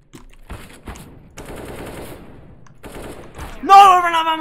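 Rapid automatic gunfire from CS:GO sounds in close bursts separated by short gaps, followed by a shouted voice at the end.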